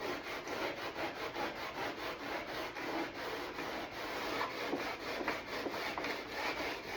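Hand sandpaper scrubs factory lacquer off a Ford door panel in steady, close back-and-forth strokes, a continuous rough abrasive rasp that keeps up its rhythm for several seconds with no talking.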